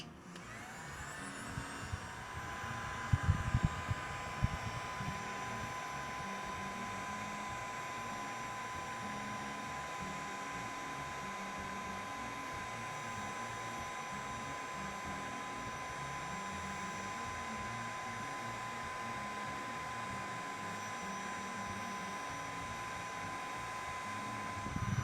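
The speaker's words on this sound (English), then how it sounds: "Turn on my trusty heat gun." Heat gun blowing hot air onto heat shrink tubing during a wiring job, a steady close whooshing hiss with a faint whine that runs unbroken for the whole stretch after a few brief handling clicks.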